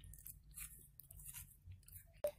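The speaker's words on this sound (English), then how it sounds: "This is my crunchy slime. It's so nice and crunchy." Crunchy slime is squished and pressed by hand close up, giving soft crackling, squelching pops in a quiet room and ending on a sharper snap.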